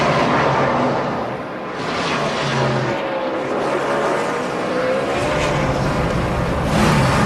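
NASCAR Sprint Cup stock cars roar along pit road at Atlanta during the 2010 Emory Healthcare 500, loud engines rising and passing in waves, with the engine din continuing throughout and no voices over it.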